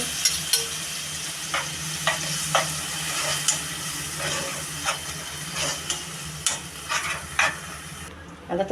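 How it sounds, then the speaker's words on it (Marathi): Boiled potatoes are stirred into hot spice tempering in a pan for misal, giving a steady oily sizzle broken by repeated scraping stirs at an uneven rhythm, close up with no talk. "अशा तऱ्हेने फोडणी देऊन आता त्यात परतवून घेतले."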